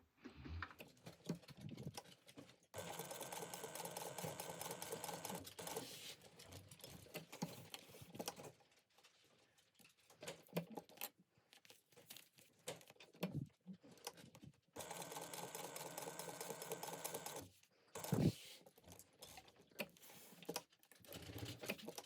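Sewing machine stitching a laptop bag, running in long steady bursts of fast mechanical needle chatter with short pauses and quieter handling between runs, close and moderately loud.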